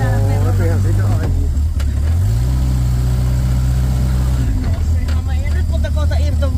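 A car on a Finnish test drive, its engine droning loud and steady throughout with a clear shift in pitch partway through as it changes gear, a voice talking over it.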